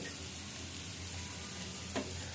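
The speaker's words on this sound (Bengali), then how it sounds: "অল্প তেলের মধ্যে নমনম করে ভাজতেছি।" Leafy greens (shak) fry in a little oil with a faint, steady sizzle and a single short knock near the end, no one speaking.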